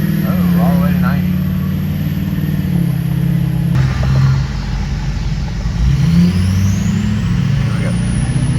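Car engine at nearly warmed-up idle revving as the gas pedal is pressed, a loud steady close drone rising in pitch partway through, with no speech.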